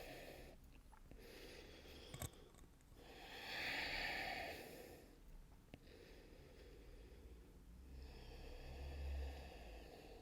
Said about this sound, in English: Still breathing in and out through the nose